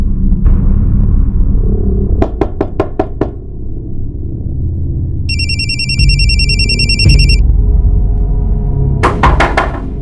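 A telephone rings from a blank call, sharp ringing bursts in repeated short clusters, then a longer high electronic trill, over a heavy, rumbling background of music or ambience in a crime drama scene.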